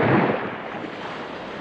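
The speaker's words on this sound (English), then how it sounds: "I heard poor Christopher plunge into the sea" An audio drama effect of a body slid off a plank at a sea burial and plunging into the sea: one heavy, low, rumbling splash at the very start that trails off into a steady wash of noise.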